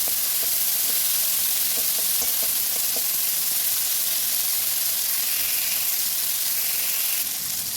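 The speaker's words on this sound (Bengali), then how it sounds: "মাছটাকে তুলে নেবো, ভাজা হয়ে গেছে।" Fish fries in a pan with small onions, a loud continuous sizzle and hiss close by, with a few faint stirring clicks early on.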